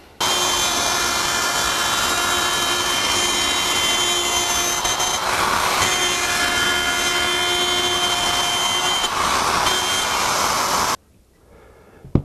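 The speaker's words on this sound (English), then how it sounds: "plunge the router to the depth we want for the rabbet" Plunge router spinning steadily as it cuts a circular rabbet in wood on a circle jig, a loud continuous high whine for about eleven seconds before stopping abruptly, leaving a quiet tail.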